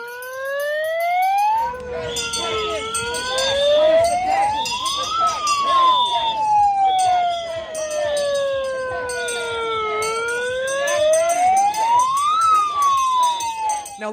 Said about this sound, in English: And here come the sirens.